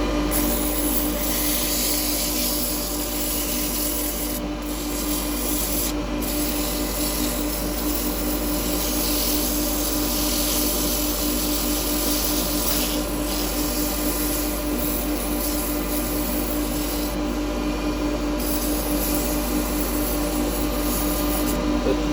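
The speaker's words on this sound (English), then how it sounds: "I'm going to give this a bit of sanding actually" Sandpaper of 180 grit against a spinning wooden candlestick on a woodturning lathe, a steady hiss and rub over the lathe motor's constant hum, continuous and close with no voices.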